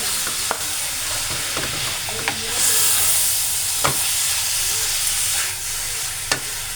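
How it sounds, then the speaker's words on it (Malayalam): Meat fries with turmeric in a pan, a steady sizzle and hiss broken by several sharp scraping clicks of stirring, close and fairly loud with no talk. "ഇപ്പം നമ്മുടെ ഇറച്ചിയെല്ലാം ഇതിലോട്ട് എടുത്തിട്ട് ഇനി ഒന്ന് ഇളക്കാം നല്ലോണം"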